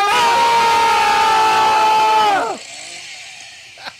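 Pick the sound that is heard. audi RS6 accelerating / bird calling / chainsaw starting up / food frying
chainsaw starting up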